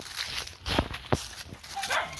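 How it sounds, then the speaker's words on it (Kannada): Dogs at a house during a Sankranti festival visit give a couple of short barks or yips amid shuffling and outdoor noise, fairly close but not loud. "ನಾಯಿಗಳು ಸೌಂಡ್ ಮಾಡ್ತಿದ್ದಾವೆ."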